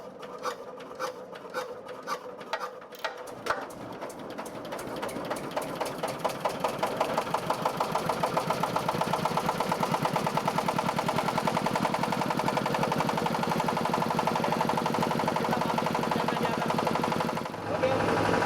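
A plastic bottle processing machine's engine is hand-cranked and catches around three seconds in, then settles into a loud, steady, rapid knocking idle that runs continuously to the end.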